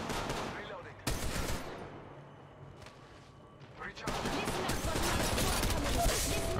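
Rapid bursts of gunfire from an Apex Legends Mobile match, a turbocharged Devotion firing in long sustained volleys with a brief quieter lull in the middle, loud and close, with speech mixed in.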